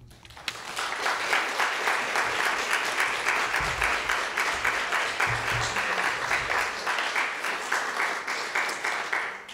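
An audience breaks into sustained applause after a talk on suffrage in Dallas, a dense, even wash of clapping that swells in and holds strongly for several seconds, with faint voices mixed underneath.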